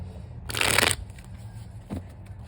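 Tarot cards shuffled in a quick riffle burst lasting about half a second, followed by a faint single flick of cards, close and alone with soft room noise.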